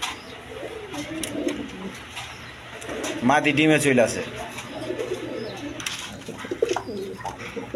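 A pair of German Beauty pigeons with their chicks coo up close in deep, throaty rolling bursts, the loudest in the middle, while someone talks over them.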